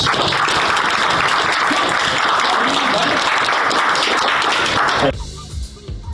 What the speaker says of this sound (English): We create a huge round of applause for Scott Lawrence